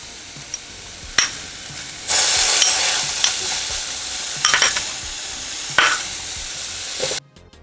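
Tomatoes for paneer bhurji hit hot oil on a full flame, setting off a loud, bright sizzle that runs steadily, punctuated by several sharp stirring clatters before it cuts off abruptly near the end.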